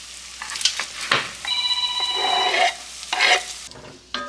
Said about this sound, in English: Once I added that garlic, I'm just going to give it a stir.